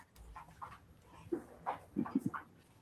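Dogs play close by, with soft panting, sniffing and short whimpering grunts coming in quick bursts, fairly faint in a quiet room.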